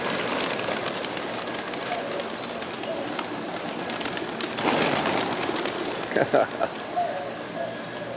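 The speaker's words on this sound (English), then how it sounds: "He's feeding the birds." Pigeons and doves being fed on a Mazatlán street, soft cooing calls rising over steady outdoor background noise, with a brief flurry of louder bird sounds and rustling near the end.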